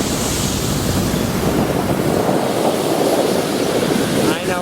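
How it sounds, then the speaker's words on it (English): Strong wind blows outdoors at a construction site for a water recycling facility in Playa del Rey, Los Angeles, buffeting the microphone as a loud, continuous roar that drops briefly near the end. "I know it's windy and noisy."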